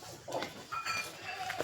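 A goat bleats several times in quick wavering cries, fairly close, over low outdoor background noise.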